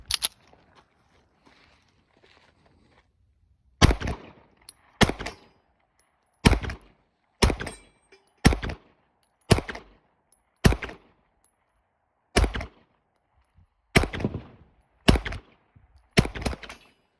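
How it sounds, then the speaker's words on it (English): Loud pistol shots from a CZ Shadow 2 fired at a range, about eleven sharp reports in an uneven string, each spaced roughly a second apart, preceded by faint handling noise. "Shooting this gun was very interesting, all right?"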